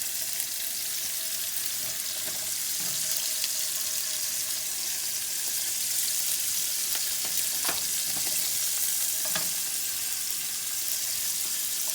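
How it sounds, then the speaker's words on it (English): Scallops searing in a skillet, a steady hissing sizzle that holds throughout at an even level, with a few light clicks and shifts in the pan and no voices. "now we're putting scallops inside of the skillet to cook them"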